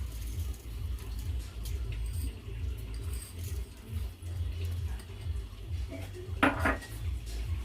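A spoon scrapes and clinks against a pan as sugar is stirred into cooked rice, a busy run of metallic taps and rubs with a brighter clatter near the end, close up in a home kitchen.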